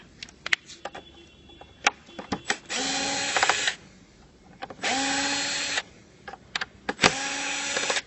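A power tool drives out the screws holding the actuator of a Clearview mirror head, running in three distinct whirring bursts of about a second each, separated by quiet clicks and handling noises.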